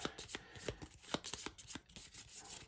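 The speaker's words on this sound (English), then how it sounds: "I'm going to shuffle all these back up." A deck of board game cards for Gaia Project shuffled by hand at close range, a quick run of crisp riffling slaps in an even rhythm with no voices.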